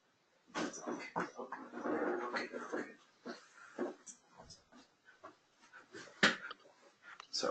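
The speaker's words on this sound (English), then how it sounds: "Sorry, my dog's having a seizure again" A dog having a seizure gives out wheezing, whimpering and snorting noises in irregular bursts, moderately close, with a person talking intermittently in between.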